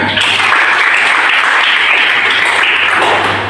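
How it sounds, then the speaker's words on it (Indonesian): Applause from an audience at a teaching session, sustained many-handed clapping throughout at moderate loudness, with a low steady hum underneath. "Tepuk tangan."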